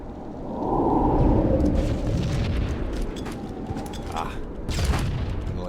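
Rocket blasts and booming explosions from a competitive tournament match in a video game, a sustained rumbling barrage with sharp bursts near the end, under a caster's running commentary.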